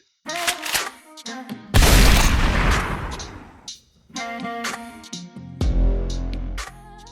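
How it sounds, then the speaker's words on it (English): A shotgun blast from an AI-made film scene, with a heavy booming report amid dramatic sound effects and distorted score, loud and close, with another deep boom afterward. "a shotgun blowing another man's head off"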